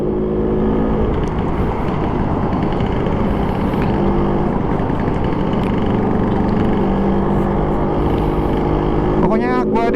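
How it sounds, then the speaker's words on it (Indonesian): A 1962 Vespa VBB two-stroke scooter engine runs with a steady buzzing drone throughout, close and fairly loud, while someone talks over it. "Kalau nggak percaya coba main Vespa 2 tak guys, asik bener."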